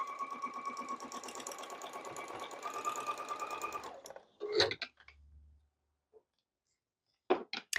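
A sewing machine stitches an angled half-square-triangle quilting seam in fabric, running in a steady rapid rhythm for about four seconds, then stopping, followed by scattered handling clicks and a last brief burst of stitching.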